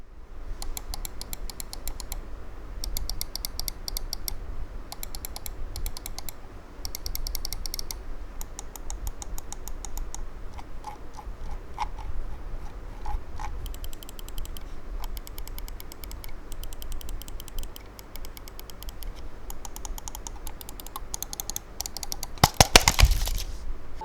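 Logitech G102 gaming mouse buttons with Omron switches click repeatedly in quick bursts, close up and crisp, separated by brief pauses, with a louder clatter near the end.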